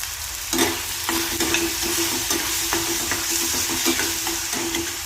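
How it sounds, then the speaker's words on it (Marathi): Chopped onion and tomato sizzle steadily in a pan as pasta sauce is stirred, with a constant loud frying hiss broken by soft scraping strokes of the spoon. "कांदा, टोमॅटो सर्व एकत्र टाकून घेतलेला आहे। चांगल्यापैकी परतून घ्यायचं आहे।"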